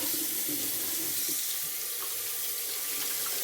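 Tap water runs steadily into a sink while raw chicken is washed under it in a dorm apartment kitchen, a continuous close splashing hiss with no talking.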